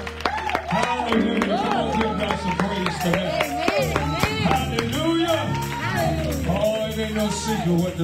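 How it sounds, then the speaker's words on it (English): A church congregation claps along in praise while a preacher's voice and singing carry over the clapping, which runs rhythmic and continuous under the voices. "Clap your hands and praise him."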